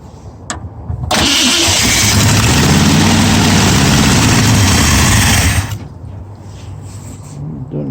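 A 1965 Ford Mustang 289 V8 with a four-speed cranks and fires up, settling into a loud, rough, steady idle for several seconds before the engine dies back to quiet.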